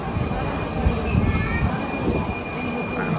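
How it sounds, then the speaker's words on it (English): Prague metro train arriving in an underground station, a steady rumbling roar with a faint high whine running through it, loud and continuous. "Time to take the metro."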